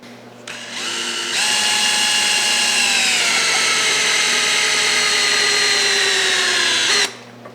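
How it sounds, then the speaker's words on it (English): A cordless drill spins a rod to turn the pump on a 1972 Challenger's 440 engine, a steady loud whir that rises in pitch as it speeds up, runs for several seconds, then cuts off. "run your drill, in this case counterclockwise, get the pump moving"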